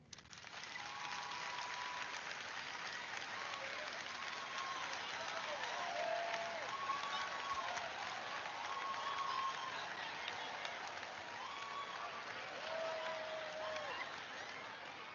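Audience at a church comedy event applauding steadily and evenly for the whole stretch, a dense wash of many hands with faint voices mixed in.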